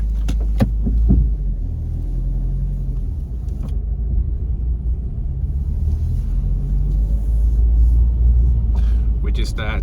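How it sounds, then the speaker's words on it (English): A Subaru WRX STI rolls slowly through quiet residential streets in Tsujido, Japan, its low engine and road rumble steady and close throughout, with a few brief clicks and knocks inside the cabin. "We're just taking it nice and slow through the Tsujido favela."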